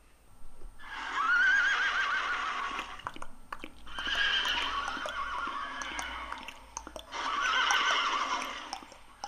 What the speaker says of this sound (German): hört er die ratternden Geräusche einer Kutsche und das Wiehern von Pferden herüberschallen